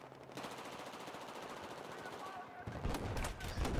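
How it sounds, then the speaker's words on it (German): Rapid automatic gunfire from the video game Battlefield 4 in a multiplayer match, with sustained bursts of machine-gun fire and heavier shots growing louder near the end. "Ich werde beschossen."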